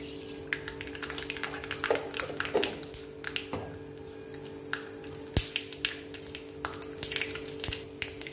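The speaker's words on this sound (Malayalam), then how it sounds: "എണ്ണയൊന്ന് ചൂടായിട്ട് നമുക്ക് കടുക് ഇട്ട് കൊടുക്കാം." Mustard seeds crackling in hot coconut oil in a pan while a Kerala curry is started, a scatter of small sharp pops and ticks at an uneven pace, close by, over a low steady hum.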